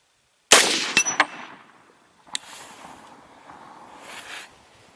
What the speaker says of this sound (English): Boy, these are very pleasant to shoot too.